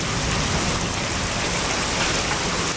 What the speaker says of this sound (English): the way it's been raining